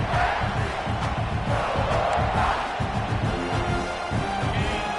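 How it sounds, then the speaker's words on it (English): Stadium crowd in the NCAA 25 college football video game roaring steadily, a loud, dense wall of cheering and yelling that swells at moments and never drops out. "this crowd coming to life here, trying to help the defense get a stop with the offense pinned back"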